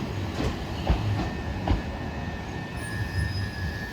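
Two trains pulling into Lewes station in England, one an Eastbourne service from Brighton, heard as a steady low rumble of wheels on rail with faint squeals and a few soft clacks, at moderate distance throughout.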